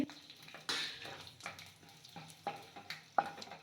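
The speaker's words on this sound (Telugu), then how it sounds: "సిమ్లోనే పెట్టుకొని ఫ్రై చేసుకోండి, లేదంటే మాడిపోతుంది మనకి" Dry coriander seeds crackle and sizzle in a pan on low heat while a spatula scrapes and stirs in a loose, repeating rhythm, close and moderately quiet.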